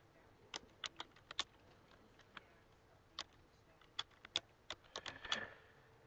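Soft keystrokes on a computer keyboard while an email address is entered into a window, a string of scattered faint clicks with short pauses between them, no talking.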